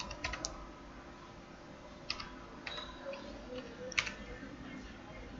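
Computer keyboard keys click quietly and sparsely as a captcha is typed, a few scattered taps over a low steady room hum.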